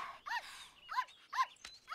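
A cartoon dog gives three short, bright yips or barks in quick succession, close and clear with quiet gaps between, no talking over them.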